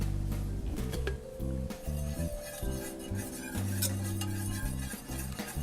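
Bourbon BBQ sauce with tomato paste, Worcestershire and honey simmers in a pan, with a soft sizzle under a utensil stirring and scraping, plus occasional light clinks of metal.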